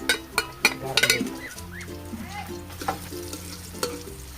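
Onion and garlic frying in a little oil in a pan, a soft steady sizzle under light clinks and knocks of a utensil stirring, fairly quiet and close.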